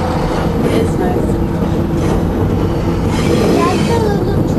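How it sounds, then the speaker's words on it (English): A small trolley-style train rumbles past on rails near a seawall, a loud continuous roll of wheels with faint squeals and clatter, and people talk over it. "That's a little train."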